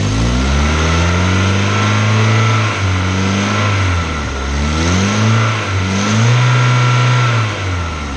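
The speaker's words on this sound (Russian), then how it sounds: "Так, погазуем сейчас." A Volvo car engine revved repeatedly from idle, rising and falling in several throaty sweeps up close, loud and alone with no talk over it.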